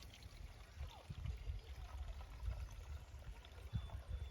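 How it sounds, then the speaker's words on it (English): Water trickles and pours into a small-mouthed bottle as a chemical solution for cucumber plants is mixed, a steady low liquid gurgle running throughout. "After pouring the chemical in it, I'll mix it with water."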